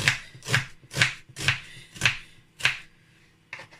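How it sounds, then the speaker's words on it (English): Red onions being sliced with a knife on a cutting board, about seven crisp, evenly spaced chops followed by a short pause and a fainter cut, close and alone. "So I'm going to cut my onions."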